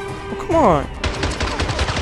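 Gunfire from the video game 007 Blood Stone: a sharp burst of rapid shots after a short sweeping whine, loud and continuing as close automatic fire for about a second, with game sounds underneath.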